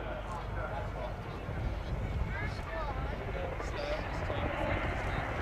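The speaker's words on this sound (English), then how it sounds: "Final low pass before departure." An aircraft makes its final low pass before departure at the Cosford Airshow, heard as a broad, steady engine roar that swells slightly partway through. Voices and outdoor crowd noise run underneath.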